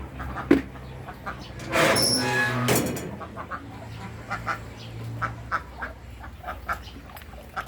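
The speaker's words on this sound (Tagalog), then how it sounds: "Papakain tayo ng mga alaga nating Muscovy ducks." Muscovy ducks kept in a backyard flock give scattered quacks and bird calls while being fed pellets, with a louder burst of activity near the middle and softer calls continuing around it.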